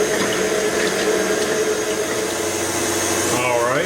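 Electric mixer whipping egg whites on medium-low speed toward soft peaks for pumpkin spice cookie icing, a loud, steady whirring hum that runs throughout, with a brief rising whine near the end.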